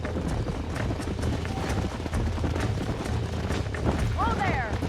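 Clip-clop hoofbeats of wild horses galloping in the Red Dead Redemption western video game, a steady rapid patter under continuous game music and voices, with a brief whinny near the end.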